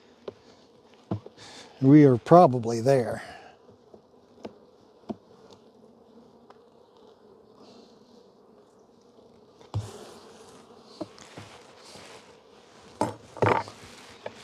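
Honeybees buzz faintly in the top box of a massive hive during a spring inspection, a low steady hum under a voice, with clinks and knocks of hive frames.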